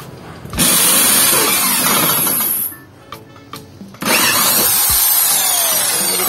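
A Taro HSS 4341 titanium drill bit in a power drill, loud sustained whining drilling run that cuts out briefly to a few quiet knocks, then resumes at full volume, close by.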